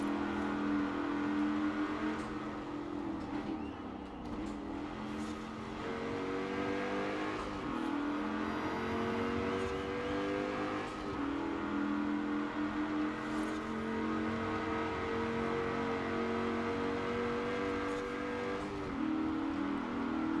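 Rover SD1 engine racing in Forza Horizon 4, a continuous revving drone rising and falling with gear changes, steady and moderately loud with no talking.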